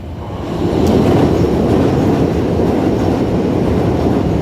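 A train rolls past on the track close by, a loud, steady roar of wheels and carriages that swells in over the first half second and then holds without letup.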